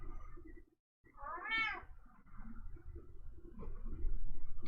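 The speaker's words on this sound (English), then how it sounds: "There's my cat, Kira." A pet cat gives a single loud, rising-and-falling meow close by in a quiet indoor room, with faint background rustling before and after.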